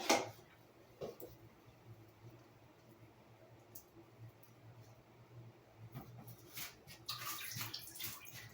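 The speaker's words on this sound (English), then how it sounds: "Hear that little drip? It's a big drip." Water drips in a bathroom, giving irregular close ticks and splashes over a low background hum, growing busier and louder toward the end, with no talk.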